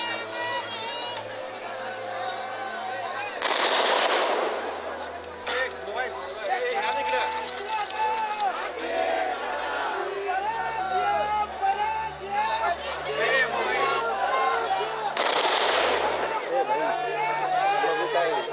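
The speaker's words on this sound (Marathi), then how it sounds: "हवेत 3 वेळा फायर करून बंदुकीची सलामी दिली जाते." Rifles fire into the air as a gun salute at a funeral: two loud, sharp reports, several seconds apart, ring out over constant crowd chatter and murmuring voices.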